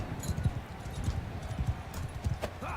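Horse hooves gallop in Mount & Blade 2: Bannerlord during a battle, a close, loud, rhythmic clip-clop with several quick strides, plus a faint whinny near the end.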